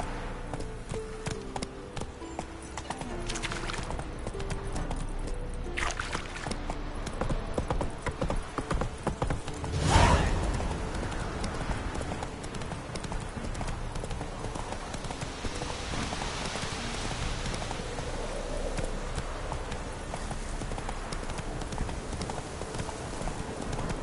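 Roach, a horse in The Witcher 3 video game, gallops in steady rapid clip-clop hoofbeats throughout, with a brief louder thump partway through and wind-like ambience underneath.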